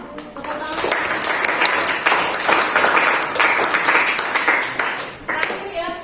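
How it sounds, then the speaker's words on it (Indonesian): Applause in an Indonesian classroom lesson, a group clapping hands steadily and fairly loudly for several seconds, with voices mixed in the noise. "Tepuk tangan."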